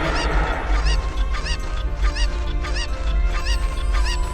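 A cartoonish bird in the Super Mario RPG game squawks in loud, honking, goose-like cries repeated about twice a second over dense background game music.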